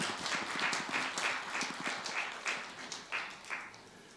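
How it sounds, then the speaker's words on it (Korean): Faint applause from a church Bible-study audience, scattered claps falling into a loose rhythm that tapers off toward the end. "우리 3040 많은 분들이 오셨는데 우리 박수 한번 쳐주죠"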